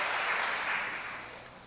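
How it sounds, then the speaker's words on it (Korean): A steady wash of applause from a church congregation, dense and even throughout, slowly tapering off toward the end. "박수 한번 쳐주세요"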